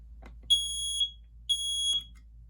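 A smoke alarm on a demo board beeps twice, two loud, piercing half-second tones about a second apart, with silence between them.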